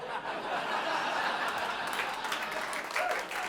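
A comedy-club crowd breaks into applause mixed with chuckles and laughter, a thick steady roar of clapping that holds at an even, fairly loud level throughout.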